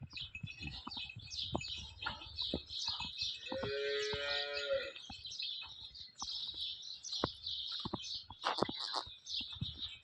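A large dairy cow lets out a single low moo in the middle, with birds chirping steadily around it outdoors.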